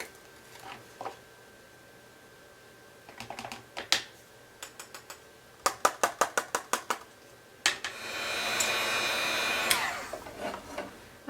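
A heat embossing tool blows hot air on a card, a steady whooshing blast lasting a couple of seconds after scattered taps and rapid clicks, with light handling noises on either side.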